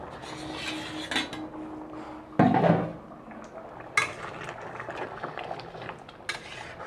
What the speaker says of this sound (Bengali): তো এবার আমি ঢাকনাটা খুলে দিচ্ছি।